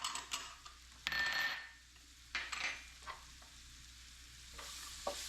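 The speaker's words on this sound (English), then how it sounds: "Now we can add our tomatoes. Add all our tomatoes." Tomatoes hit a hot pan and cook, with bursts of sizzling and frying alongside stirring and scraping, loud at moments and then settling into a quieter background sizzle.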